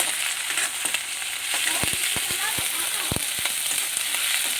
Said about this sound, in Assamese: আদা নহৰু দিছোঁ।